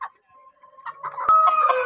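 An Ayam Cemani, the Indonesian black-tongue chicken breed, calls on a farm. A brief, close, loud crowing cluck rises out of near silence.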